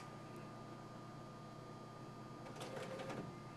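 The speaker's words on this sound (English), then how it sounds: "it's going to print" A printer runs quietly, a faint continuous mechanical whir with a short louder feed or sliding burst near the end.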